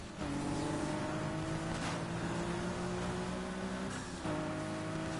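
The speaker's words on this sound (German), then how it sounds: "Ich liebe den Klang dieses Motors." A sports car engine drones and revs steadily at close range throughout a Need for Speed Heat race, with a strong continuous roar, shifting pitch and a brief dip near the end, and no talking.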